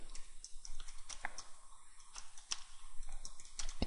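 A computer mouse gives soft, close clicks, scattered irregularly across a few seconds at low volume.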